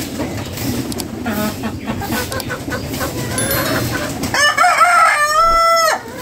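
A large rooster crows loudly and close by, a long wavering call near the end over a steady background of farmyard noise and murmur.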